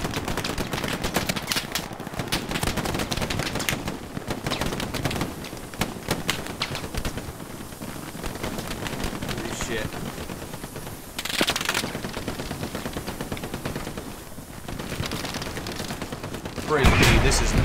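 Heavy gunfire in a World War II shooter game, with rapid machine-gun bursts and scattered rifle cracks running almost nonstop, mid-distance and loud, with players talking over the fighting.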